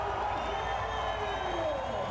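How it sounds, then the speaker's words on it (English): Crowd at a beach volleyball semifinal at the Vitoria Open cheering and whooping, a steady broad roar of many voices with no clear claps, loud and continuous throughout. "The crowd enjoying it."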